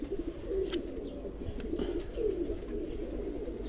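A balanced pigeon with a single-feather tail coos softly in low repeated phrases, close by, with faint background noise and no speech.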